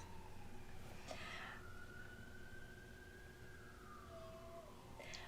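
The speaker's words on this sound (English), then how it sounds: "siren" A distant emergency vehicle siren wails, sweeping up and holding a long tone before fading, faint beneath a constant background hum.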